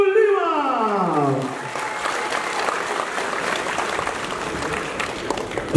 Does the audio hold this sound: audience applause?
yes